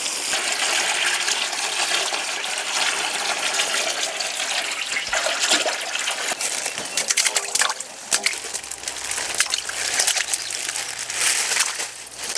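Raw chicken for donne biryani is washed and squeezed by hand in water in a village kitchen, with continuous splashing and sloshing and occasional heavier wet squelches.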